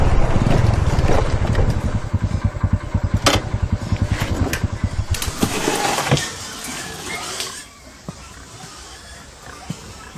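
A motorcycle with a starting problem runs with a low, rhythmic putter for about six seconds before dropping away, leaving wind and outdoor background noise.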